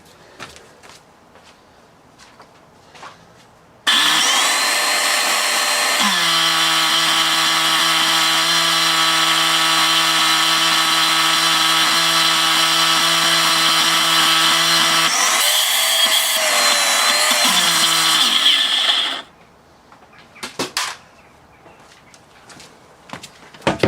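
Shark Rotator NV380UK vacuum suction unit, with a suspected motor fault, switched on and running loudly for about fifteen seconds as a steady close whine that shifts pitch partway through, then cuts off abruptly.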